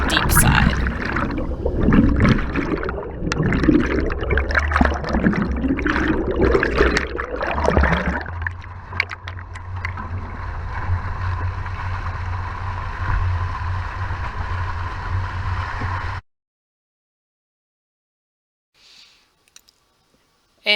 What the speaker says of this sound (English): So we did a few creek crossings, and this one gets a little bit on the deep side.